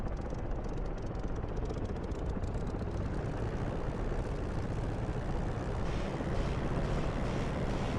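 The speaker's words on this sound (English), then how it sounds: "Right, brake off, and I'm going to taxi to the left." A Spitfire taxiing in a flight simulator game, its engine producing a steady, dense broadband drone that holds at a constant level throughout with no talk over it.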